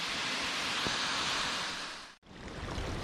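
A waterfall in the Swiss mountains, a steady broad roar of rushing water close by, with a brief dip partway through.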